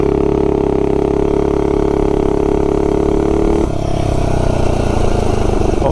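A T225 kart engine with a Shred cylinder head pulls hard from a standstill, a loud steady drone holding near full throttle before the tone abruptly drops and wavers as it eases off.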